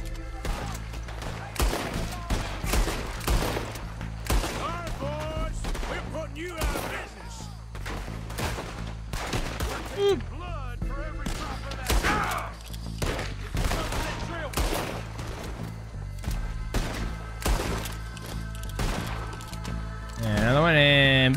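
Rapid, dense gunfire in the video game Red Dead Redemption, repeated sharp shots and bursts continuing throughout with a player talking over them.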